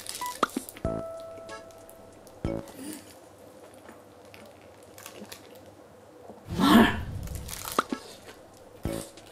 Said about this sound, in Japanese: フローリ半熟月見バーガー食べまーす